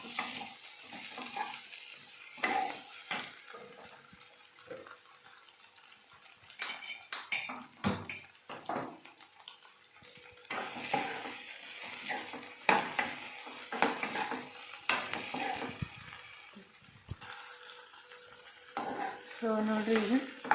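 A spoon stirs paneer and tomato frying in a pan, making continual scrapes and clatters against the metal over a steady sizzle, with busy, irregular strokes throughout.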